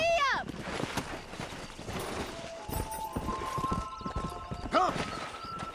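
Hoofbeats of a horse at a fast clip-clop in Red Dead Redemption, set in the Wild West, mixed with game music and other ambient sound, with a sharp whinny-like cry near the start and again near the end.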